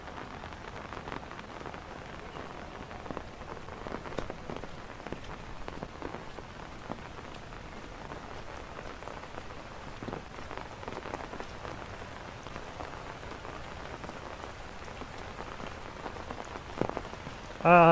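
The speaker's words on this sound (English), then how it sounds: "Lots of rain coming down." Heavy rain pouring down steadily over Hong Kong during a morning hike, a dense constant patter of drops on surfaces with a few louder splashes and a sharp knock at the very end.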